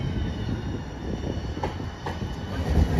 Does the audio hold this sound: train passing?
yes